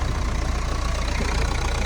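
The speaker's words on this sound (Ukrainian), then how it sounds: "Двигун працює дуже добре." Renault Megane 3 GT-line from 2012–2013 idling, a steady, close engine hum with an even low-frequency pulse and faint mechanical ticking, heard alone without talk.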